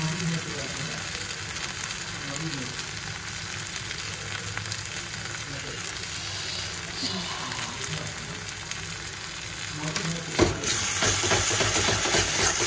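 Spices, salt, turmeric, Kashmiri chilli powder and ground green chilli sizzle and sauté steadily in hot oil, a continuous close frying hiss with soft stirring scrapes, a louder clatter near the end.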